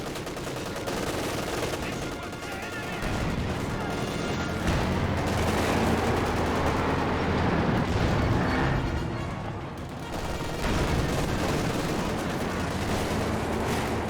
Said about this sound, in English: Good Howitzer hit there.